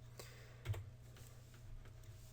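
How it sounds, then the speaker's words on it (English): Computer keyboard keys are pressed, including the enter key, as a few faint, close clicks over a quiet low hum. "press enter on my keyboard"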